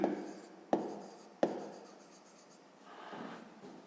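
A pen writes math on paper for a fifth-grade exercise, three sharp taps followed by scratchy strokes, close and faint, with no talking.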